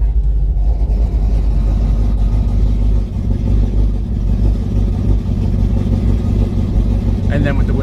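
A car engine with an open, loud exhaust idles close by, a deep, rumbling drone that holds steady, with people talking over it.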